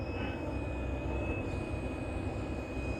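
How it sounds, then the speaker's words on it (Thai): A Komatsu PC120-6 excavator in its cab, running in auto mode with the air conditioning on, gives a steady high-pitched engine whine over a low, even mechanical hum that lasts throughout. "เสียงวีดดีจังนะครับ"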